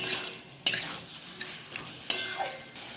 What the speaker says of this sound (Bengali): এবার এই মশলাটাকে ভালো করে সবজির সঙ্গে কষানোর পালা